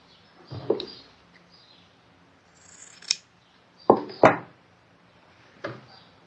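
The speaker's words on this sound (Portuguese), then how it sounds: "Corta o excesso." Scissors snip through excess towel fabric in a few sharp, separate cuts with quiet pauses between, close and clear with no talking.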